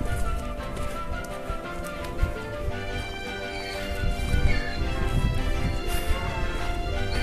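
Steady clip-clop of a donkey's hooves walking over rough outdoor ground, with a continuous background bustle and occasional thumps.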